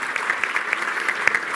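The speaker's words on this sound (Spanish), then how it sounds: "Fuerte aplauso." A conference audience gives loud, dense applause, many hands clapping together in a steady burst that lasts the whole moment.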